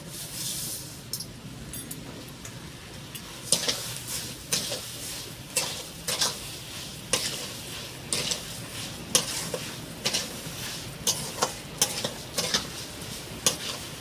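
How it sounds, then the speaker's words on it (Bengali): Chhena and sugar are worked together in a large bowl for a sweet sandesh, giving steady scraping and stirring with repeated sharp clicks of a utensil against the bowl, close by and with no voices. "ভালো করে ছানা চিনি একসাথে মিশিয়ে নেব"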